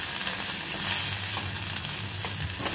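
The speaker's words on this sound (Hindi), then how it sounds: "इनको थोड़ा सा सोटे करना है" Mixed vegetables and corn sautéing in hot oil for a sooji veg paratha filling, a loud continuous close sizzle with light stirring, no voices.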